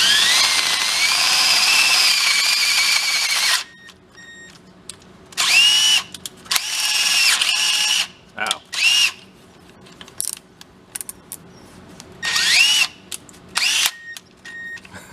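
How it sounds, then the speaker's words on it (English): A new power drill runs in one long whine, then in several short, sharp bursts drilling holes in a skid steer, separated by silences. "we'll go drill the setup that's in here"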